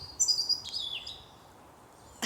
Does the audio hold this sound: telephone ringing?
no